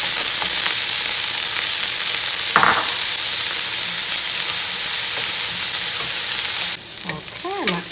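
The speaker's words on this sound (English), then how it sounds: "Ooh, listen to that sizzle." Onions sizzle steadily in hot oil, a loud continuous crackling hiss with a brief stirring scrape partway through and a voice murmuring near the end.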